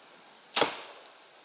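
A 28-inch arrow leaves a Liberty Archery Big Game compound bow with a single sharp, close release thump and a brief whoosh that fades quickly.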